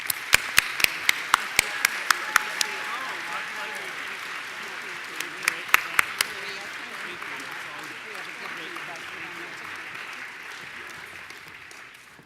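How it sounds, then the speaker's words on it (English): An audience gives sustained, dense applause for the two masters of ceremonies at a live community event, with a few sharp, close claps standing out near the start and a steady crowd wash continuing for the whole stretch. "please join me in a robust round of applause for Maria and Henry"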